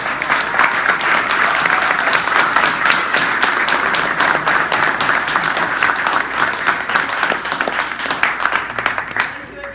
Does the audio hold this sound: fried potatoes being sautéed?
no